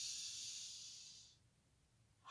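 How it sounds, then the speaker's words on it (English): A person breathing in and out during seated neck circles in a stretching session, a long breathy exhale hiss up close that fades, then a fresh breath starting at the end, no speech. "Just breathing in and out on the way down."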